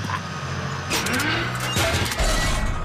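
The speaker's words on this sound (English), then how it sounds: "let's smash up this old pipe." Cartoon workmen smash up an old pipe in a road being dug up, with a loud clattering crash and rumbling impacts over a busy, noisy background.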